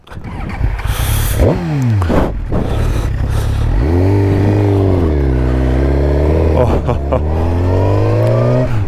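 A Suzuki GSX-R 1000 sports motorcycle engine is started and revved close by, loud and rasping. Several quick blips rise and fall, then the engine settles into a steady, throbbing idle with small rises in pitch.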